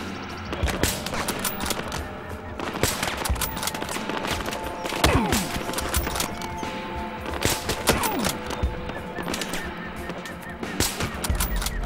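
Rapid gunfire from a weapon in the Battlefield Hardline video game crackles in dense, continuous bursts with sharp cracks layered over a loud, busy battle din.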